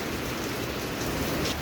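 Steady rain falls in a dense, continuous hiss, close and even, with no voices.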